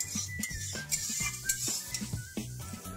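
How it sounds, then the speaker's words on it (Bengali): Tomatoes sautéing with salt, a little turmeric and chili powder for an egg curry, a ladle scraping and knocking against the pan in a quick repeated rhythm over a faint sizzle, close and fairly quiet. "এই সময় দেব স্বাদ মতো নুন, খুব অল্প একটু হলুদ, প্রয়োজন মতো লঙ্কা গুঁড়ো দিয়ে 1-2 মিনিট কষিয়ে নেব।"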